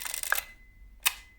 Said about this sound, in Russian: Как видите, шторки двигаются у нас в вертикальной плоскости.